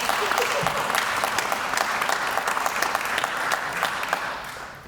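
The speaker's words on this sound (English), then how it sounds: "Yes, clap for them." Sustained audience applause fills a school hall at a State of the Schools address, honoring the district's school bus drivers; steady dense clapping from many hands, fairly close, tapering off at the end.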